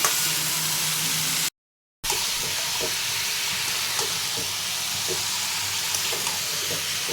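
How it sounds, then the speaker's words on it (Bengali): Mutton sizzles and fries hard in a pan while being cooked down for a dahi mutton kosha, a loud, continuous hiss with faint stirring scrapes and a brief gap of silence near the start. "এবার ভালো করে মাংসটাকে কষাবো"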